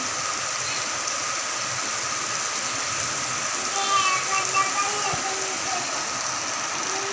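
Heavy night rain in Bengaluru pours in a steady, dense hiss close by, unbroken throughout, with a few faint brief tones rising briefly midway.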